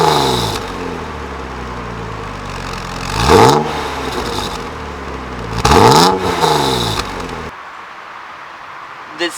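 A BMW E36 M3 fitted with an HKS exhaust, idling and then revved twice in sharp rising-and-falling bursts, loud and close, with no talking, before the sound cuts off.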